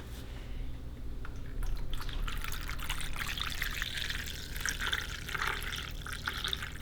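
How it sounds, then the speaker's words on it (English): Borax and water solution poured into a bowl, a steady soft trickling and splashing stream that runs for several seconds at moderate volume, with no talk. "you can put a lot of it in there with our borax and water solution"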